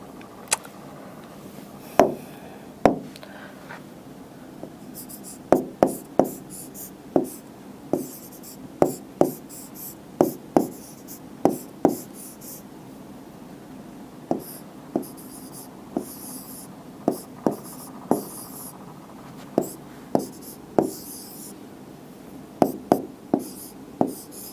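Marker or chalk strokes on a board as a diagram is drawn, a long run of sharp taps and short scrapes at an uneven pace, close and fairly loud with no talk.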